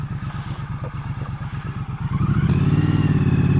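A 2016 Triumph Street Twin motorcycle engine pulsing in a steady rhythmic idle-like thrum while riding slowly and turning around, then revving up into a louder, smoother drone as it accelerates, close and prominent.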